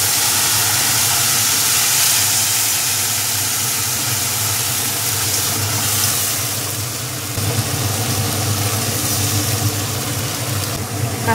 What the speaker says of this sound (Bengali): এবার এই যে বাটা মশলাটা ভেজে দিচ্ছে